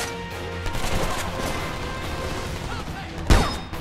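Video game gunfire from Homefront during a firefight: dense, sustained shooting and rattling throughout, with one sharper, louder blast near the end.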